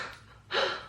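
A person imitates the heavy breathing of someone sick with a cold: a quiet exhale, then a sharp, loud, close gasping intake of breath.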